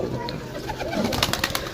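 Large pigeons coo softly amid a busy, cluttered background of fluttering, rustling and clicking noises.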